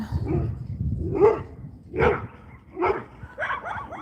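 Dogs bark in a short series of separate yaps, close and fairly loud, with pauses between them and no talking.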